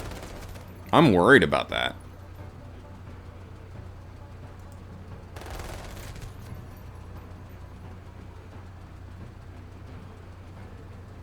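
Bursts of enemy counterattack gunfire in a video game, one loud volley early and a fainter rattle later, with talk over quiet background.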